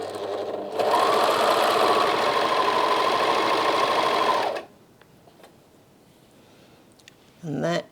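A Bernina 1100DA serger stitches a two-needle rolled hem in a fast, steady mechanical whir for several seconds, then stops abruptly, leaving quiet room tone with a few faint clicks and a brief voice at the end.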